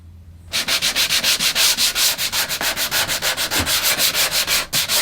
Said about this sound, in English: a quick little pass with 120 grit sandpaper just to remove all the marks from the routed bit